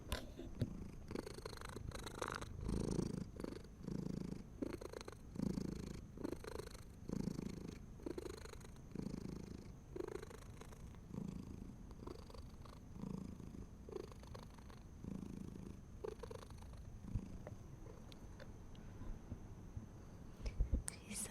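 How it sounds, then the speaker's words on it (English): House cat purring close to the microphone, a soft rhythmic rumble pulsing with each breath in a quiet room, alongside gentle whispered speech. "I'll start us out with the kitty purrs."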